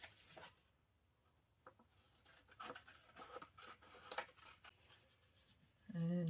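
Scissors cutting paper for a handmade no-sew journal, a soft intermittent rasping and snipping at close range, quiet throughout with a louder rustle near the end.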